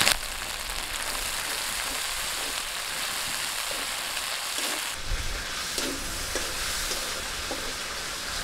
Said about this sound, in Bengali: সামান্য জল দিয়ে মশলাটা কষে নেব